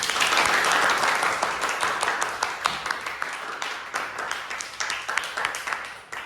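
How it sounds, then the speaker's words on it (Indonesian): A classroom audience breaks into sustained applause after a correct answer, dense overlapping claps ringing out loud and close for several seconds before gradually thinning and softening toward the end. "beri tepuk tangan"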